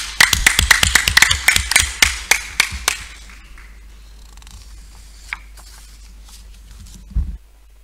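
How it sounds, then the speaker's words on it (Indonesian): Applause at a city council meeting on the Kendari municipal budget: a burst of sharp, roomy hand claps that starts loud and thins into a few scattered claps within about three seconds, followed by quiet room hum. "saya minta aplaus untuk kita semua"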